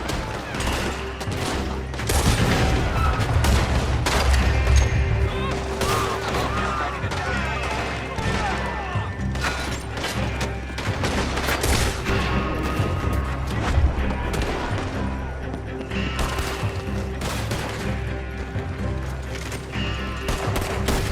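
Dense, sustained gunfire with rapid bursts and explosions from a Red Dead Redemption 2 battle, continuous and loud throughout, with occasional voices mixed in.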